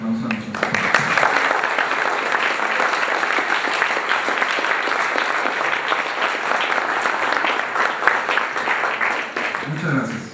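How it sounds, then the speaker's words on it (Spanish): A debate audience claps in a steady, dense burst for about ten seconds, loud and close, then fades out near the end. "les pido que les demos un fuerte aplauso a nosotros."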